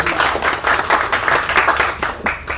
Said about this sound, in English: Big round of applause for Neeraj.